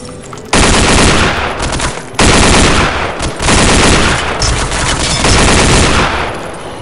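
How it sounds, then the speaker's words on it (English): An M60 machine gun in Soldier of Fortune 2 fires long, loud, dense bursts at close range, broken by a couple of short pauses. "The M60, where you have to clear room as fast as possible."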